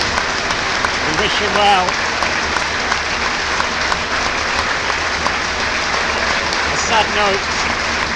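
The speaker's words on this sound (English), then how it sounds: "for the Welshman as he comes off to lovely warm applause" Warm, sustained applause from a football crowd at a National League North promotion final as an injured player is stretchered off, with a commentator talking over it.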